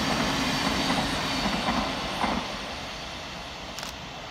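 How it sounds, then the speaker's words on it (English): A Govia Thameslink Class 700 electric train passing through Hornsey station, a loud rushing roar with some rail clatter that fades noticeably after a couple of seconds. "Next flying through for Govia Thameslink is 700-015, working 9 Yankee 57 from Welling Garden City through to"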